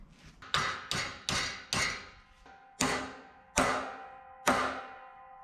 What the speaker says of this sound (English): we're going to try flattening this bracket